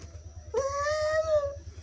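A child imitates a cat with a single drawn-out meow, rising then falling over about a second, close by against a quiet background.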